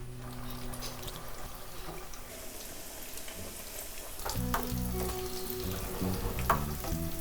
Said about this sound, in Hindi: ऐसे इसकी भी एक साइड 1 मिनट फ्राई करेंगे, 1 मिनट दूसरी साइड